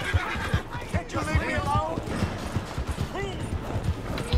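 A horse in a video game neighs and whinnies several times over rhythmic clip-clopping hooves, loud and close.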